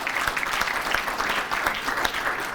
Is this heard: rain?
no